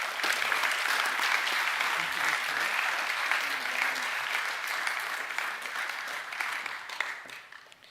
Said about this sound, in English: I'll just ask everyone to give them one more round of applause.